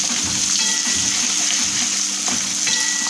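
Finely chopped onion frying in hot oil, a continuous bright sizzle with faint stirring textures, steady and close throughout.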